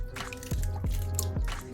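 Four eggs plop into cornbread batter with buttermilk for jalapeño cornbread, giving a few close, wet drips and squishy splats in quick succession.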